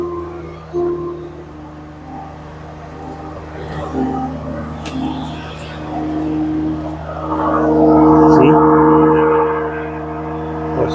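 A Land Rover Defender engine cranks and catches, then settles into a steady idle with a swelling rev near the end. The sound is close and fairly loud, with a faint voice in the background.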